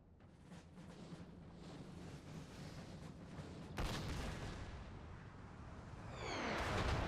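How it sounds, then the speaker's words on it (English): Cannon artillery booms in the Napoleon Total War battle, with a sharp report followed by a rolling rumble amid continuous distant battlefield noise and another rising blast at the end. "Unlimber those cannons. I want you to start firing on those cannons."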